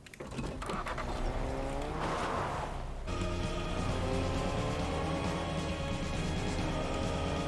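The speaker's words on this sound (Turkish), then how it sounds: "Arabanın sesini daha çok seviyorum ben." A car engine in Fortnite drones and revs continuously with harmonic whine, tires briefly squealing early on, loud and steady throughout with no talking.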